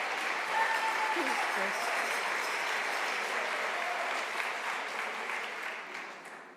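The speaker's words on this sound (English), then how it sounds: "Yes, that gets an applause too." A crowd claps steadily in sustained applause that slowly fades toward the end.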